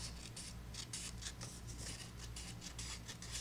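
Scissors trimming the edge off an old book page: a quiet, steady run of crisp snips in quick rhythm, close up with no talking.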